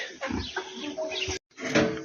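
Chickens cluck and murmur nearby in a steady, close stream of short calls, with a brief pause before more clucking.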